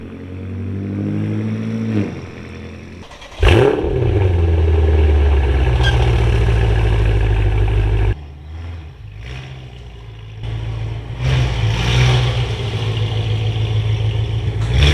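A BMW M6 engine heard nearby: an idle, then a sudden loud rev, a deep, steady drone, a pause, and a second surge as the car pulls away.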